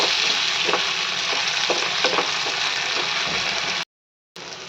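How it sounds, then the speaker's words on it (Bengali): Washed rice frying in a pan with chopped tomato, stirred now and then: a steady broadband sizzle with soft scraping strokes, close and loud, cutting briefly to silence near the end. "এই চালটাও দিয়ে দেবো। এখানে দিয়ে একটু কিছুক্ষণ ভাজতে হবে।"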